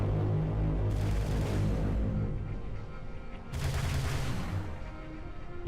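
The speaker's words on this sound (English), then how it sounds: "I think it's just the anti-air wraith sound." A Halo 3 anti-air Wraith cannon fires in the video game: two heavy bursts of booming, crackling flak blasts with a rumbling tail, loud and dense, with no talk over them.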